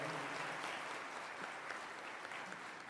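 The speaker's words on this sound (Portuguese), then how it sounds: "Dá uma salva de palmas essa palavra de Deus." A church congregation gives a round of applause after a scripture reading, a soft, continuous patter of many hands heard from a distance and at low volume, steady for the whole stretch.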